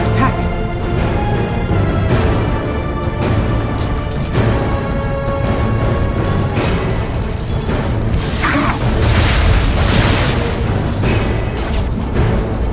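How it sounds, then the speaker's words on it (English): A tower crumbles in a Dota 2 match with heavy booms and crashing impacts, layered over continuous game effects, music and a voiced announcement, busy and loud from start to finish. "Dire's middle tower has fallen."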